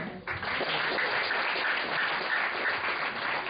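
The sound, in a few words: audience applause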